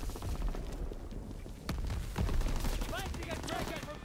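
Rapid bursts of Call of Duty: WWII gunfire crackle in irregular volleys, with a few sharper shots and faint voices underneath.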